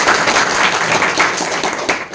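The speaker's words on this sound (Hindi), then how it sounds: "एक बार ताली हो जाएगी" Audience applause at an RCM business meeting: dense, continuous clapping from many hands, loud and steady throughout with no speech over it.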